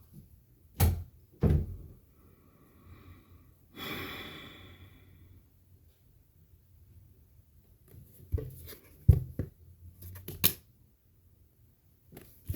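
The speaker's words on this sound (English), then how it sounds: "Just at least close the door, please." Door closing indoors, heard as a few sharp thumps and clicks spread across the stretch, with a breathy rustle between them and quiet gaps around the impacts.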